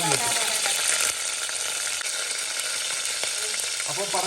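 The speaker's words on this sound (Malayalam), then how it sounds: "ഇങ്ങനെ ചൂടെണ്ണയിലോട്ട് കറിവേപ്പില" Curry leaves crackle and sizzle as they drop into hot oil in a pan, a steady loud hiss with sharp pops throughout, no talking.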